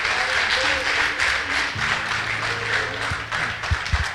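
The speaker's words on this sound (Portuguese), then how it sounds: "Você pode aplaudir a Jesus por isso, igreja." A church congregation applauds during a sermon on Acts, sustained clapping at moderate volume with organ or keyboard chords and some voices underneath.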